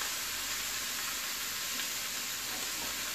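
Queso fundido cooks in a hot pan with vegetables on top, giving off a steady, close sizzle and frying hiss that stays even and continuous without any talk.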